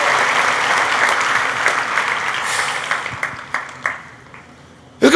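A church congregation at a communion service breaks into sustained, dense applause that thins and fades toward the end, followed by a sudden loud sound at the very close.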